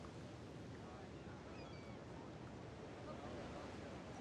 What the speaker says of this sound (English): This is an ocean.